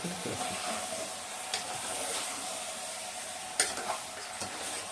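Washed chicken being mixed by hand in a bowl for green chicken, giving soft, steady wet rustling with a few sharper clinks, fairly quiet and without talk.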